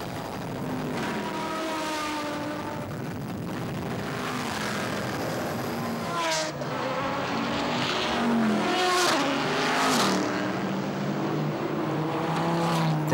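Race cars at the Albi Grand Prix roar past on the circuit, engines rising and falling in pitch as several cars pass close by in succession, loud and continuous.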